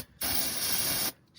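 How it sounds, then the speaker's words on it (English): A single sustained burst of aerosol brake cleaner sprayed up into an engine oil pan's cavities on a 5.0 Coyote F-150, a loud steady hiss lasting about a second, close to the microphone with no talking. "I got a can of brake clean, and I'm just spraying up into the cavities"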